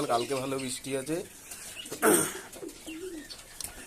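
Pigeons coo in a loft on a rainy evening, soft repeated coos heard under and between a man's speech.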